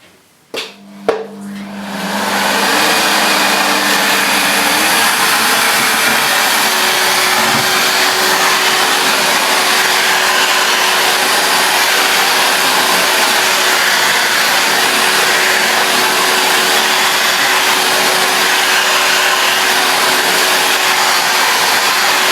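A Hetty vacuum cleaner, its nozzle angled to suck mess off a floor, starts with a brief clunk and then runs as a loud, steady, unbroken roar for the rest of the clip.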